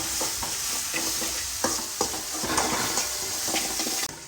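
Salted onions sautéing in a pan, a continuous sizzle broken by repeated scraping stir strokes at an irregular rhythm, close and fairly loud.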